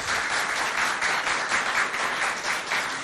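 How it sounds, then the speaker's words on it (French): An audience at a school event applauds a pupil's poem, a dense, steady wash of clapping from many hands that holds evenly for several seconds without pause. "Bravo, on l'applaudit encore."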